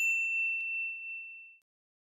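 A single bright bell ding rings out clearly and alone, then decays smoothly over about a second and a half before stopping.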